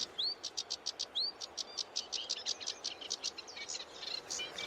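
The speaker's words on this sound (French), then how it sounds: "Là, on a la rousserolle effarvate qui est particulièrement active. Tout est actif d'ailleurs, on entend du troglodyte mignon, on entend du pouillot véloce" Reed warbler, wren, chiffchaff and sedge warbler singing in a wetland: quick, bright chirps and short trills repeat in a steady rhythm at close range, with no voices.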